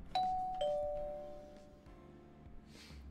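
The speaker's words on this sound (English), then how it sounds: "the doorbell intercom rang" A two-tone doorbell intercom chime rings once in a dating-sim video game, a bright ding followed by a lower dong that decays slowly, with a faint soft rustle at the end.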